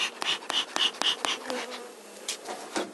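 Honeybees, black bees in Normandy, buzz around inside a hive feeder, giving several short close passes of buzzing in quick succession followed by a softer, steady hum, with no speech.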